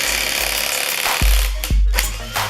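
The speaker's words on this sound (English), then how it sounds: "my little battery pack or impact gun should pick the lugs right off" A battery impact gun works on wheel lug nuts on a GT86/FRS/BRZ, with a dense rattling hammer and two sharp heavy thumps, then a quieter whirring tail, loud and close throughout.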